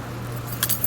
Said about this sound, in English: So now I'm just running in to leave the keys